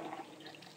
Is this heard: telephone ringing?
no